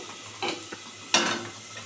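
Bata fish frying in oil in a pan with green mango, quiet sizzling broken by two short bursts of louder crackle and a light utensil scrape as the pieces are turned.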